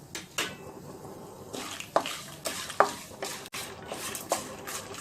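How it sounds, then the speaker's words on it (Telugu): Dried red chilli pieces stirred in a pan with cumin, giving a soft steady hiss broken by scraping strokes and a few sharp utensil knocks against the metal. "ఇవి కొంచెం వేగిన తర్వాత ఎండుమిరపకాయ ముక్కలను వేసుకొని వేయించుకోవాలి"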